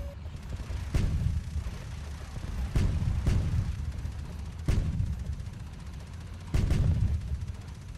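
Four heavy tank cannon blasts in an online tank video game boom at irregular intervals over a low, steady rumble, with no voices.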